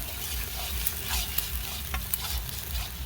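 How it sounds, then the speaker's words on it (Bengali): Spice masala sautéing in a pan at an outdoor picnic, a steady close sizzle with a few scraping stirs and clinks over a low rumble, no talking. "মশলাগুলো আপনার কষানো হোক ভালো করে"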